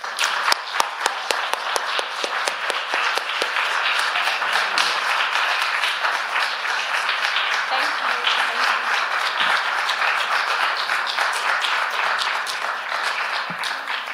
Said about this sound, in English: So I would just like us to give a round of applause to Diana